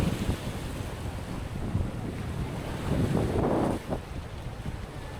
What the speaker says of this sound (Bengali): দেখুন সমুদ্র কি পরিমাণ উত্তাল এখন